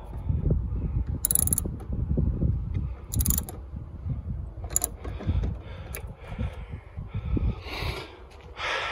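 Tightening the battery terminal nut on a Honda Accord with a hand tool, close-up clicking and scraping metallic ratchet sounds repeating over a low rumbling background.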